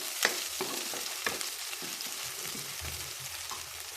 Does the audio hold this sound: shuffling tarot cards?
no